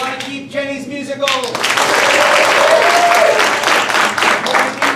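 At an improv comedy show, an audience bursts into loud sustained applause to vote for a scene, building after a brief voiced moment and holding steady for several seconds.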